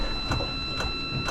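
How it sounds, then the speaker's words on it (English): A steady electric fuel pump on a Catalina 30 sailboat ticks in regular pulses about twice a second, with a faint whine underneath, close and fairly quiet. "Can hear the electric fuel pump."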